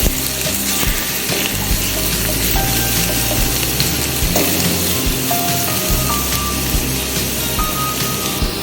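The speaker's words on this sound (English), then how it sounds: "We'll heat little oil in a pan. We'll add chopped garlic," Chopped garlic frying in a little hot oil in a pan, a steady dense sizzle and crackle running loud and close throughout, with no talking.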